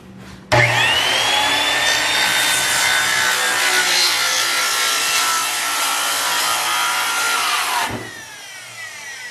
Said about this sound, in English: Now we're cutting the back panel, the left side, the bevel cut